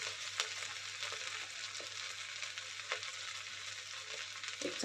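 Coriander powder added to a pan of peas pulao being sautéed with whole spices, a soft steady sizzle broken by a few light clicks of a spoon stirring, fairly quiet and close, no talking.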